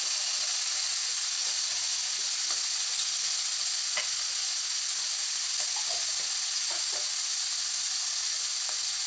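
New potatoes fry with ground spice paste in a pan for a khichuri, giving a steady close sizzle with occasional stirring scrapes and no voices.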